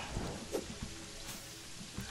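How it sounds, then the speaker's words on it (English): Steady rain in the Terraria video game, a soft continuous patter with a few brief louder splashes, alone with no talk. "it's so annoying to fight in the rain"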